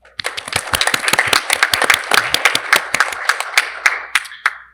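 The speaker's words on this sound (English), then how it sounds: "Round of applause." Round of applause from the audience at a school board of education meeting, dense overlapping claps building quickly and holding steady before thinning out near the end, fairly close and loud with no talking.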